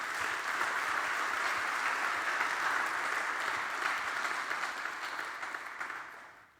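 A church congregation gives sustained, dense applause to the Lord, loud and even for several seconds before fading out.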